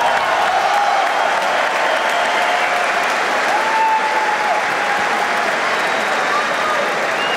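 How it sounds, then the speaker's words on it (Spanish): Sustained audience applause fills an arena after an epic three-versus-one combat at a DWT 2nd Impact event, steady and dense throughout with a faint whoop or cheer rising briefly midway. "voy a pedir otra vez un puto aplauso para esto"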